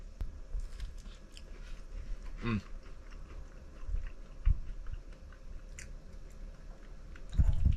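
Biscuits from a Mexican-style can pie being chewed close up, with soft moist mastication and a few crunchy bites spread across the clip, no speech.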